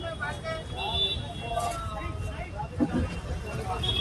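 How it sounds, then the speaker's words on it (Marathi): Heavy traffic jam outside Hyderabad railway station: a steady, dense rumble of idling and crawling vehicles with a constant babble of voices, moderately loud throughout. "खतरनाक ट्रॅफिक जाम झालंय"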